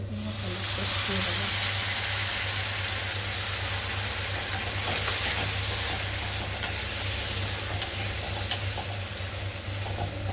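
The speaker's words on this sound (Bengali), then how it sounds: "পেঁয়াজ ভাজা ভাজা হয়ে গেছে, ব্রাউন হয়ে যাওয়ার পর তারপর কি জিঞ্জার গার্লিক পেস্ট?" Browned onions sizzle loudly in hot oil while being fried for a crab curry, a constant dense hiss with occasional stirring scrapes, close up and without pause.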